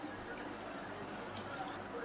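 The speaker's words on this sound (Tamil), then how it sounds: "இப்போ சூப்புக்கு தேவையான அளவு நம்ம தண்ணி சேர்த்துக்கலாம்" Water is poured into a pot of cooked, mashed tomatoes for Tamil-style tomato soup: a faint, steady splashing and trickling that runs evenly through the whole moment.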